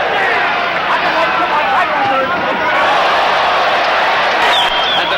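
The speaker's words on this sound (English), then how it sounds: "And the crowd react to the big right." A boxing crowd roars in response to a big right-hand punch landing in a heavyweight bout, a loud, steady wall of cheering and babble that fills the whole clip.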